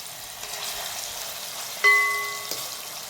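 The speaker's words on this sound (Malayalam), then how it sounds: "നമുക്ക് മീൻ കുറേശ്ശായിട്ട് ഇതിനകത്ത് ഇട്ടിട്ട് വറുത്ത് കോരിയെടുക്കാം." Pieces of kera fish fry in hot oil for pickle, giving a steady close hiss and sizzle, with a sharp metallic ring from a pan or utensil partway through.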